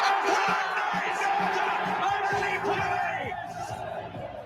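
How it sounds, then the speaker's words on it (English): A big arena crowd at a steel-tip darts World Championship rises with roaring cheers, whoops and yells, loud and sustained before easing off slightly at the end. "The crowd rise."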